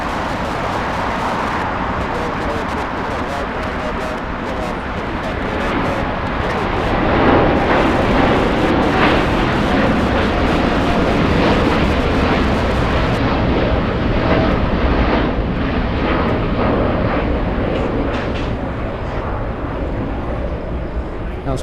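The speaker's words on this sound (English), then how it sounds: "we have a United 787 racing down the runway," A United Boeing 787 takes off down the runway at LAX, a loud sustained jet engine roar that swells and then holds, heard from a distance with a person talking over it.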